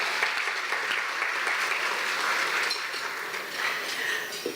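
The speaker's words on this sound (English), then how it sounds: "I hear some clapping." Sustained audience applause at an awards ceremony for quality excellence, a dense steady wash of many hands clapping at moderate distance without voices.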